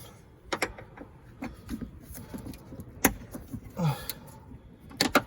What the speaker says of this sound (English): I'm going to take these top screws off of the latches, or the hinges, whichever you want to call them.